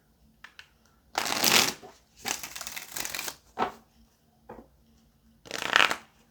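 Tarot cards are shuffled by hand in several separate bursts of riffling and sliding, each lasting about a second, with short pauses between them and no talking.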